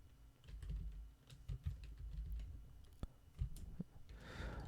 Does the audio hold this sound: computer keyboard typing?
yes